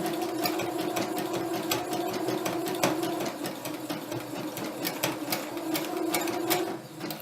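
A sewing machine stitches a buttonhole in a continuous, steady mechanical hum with a rapid needle rhythm, close and loud throughout.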